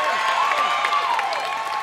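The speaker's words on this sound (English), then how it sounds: "And the crowd goes wild there" A crowd at an ultimate frisbee game cheers after an end zone score, a steady wash of voices and whoops heard throughout, mixed with speech.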